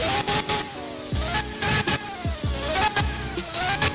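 A car engine in the mobile game Realistic Car Driving revs in quick, repeated bursts, each climbing in pitch and then dropping, loud and close with a buzzy, synthetic edge.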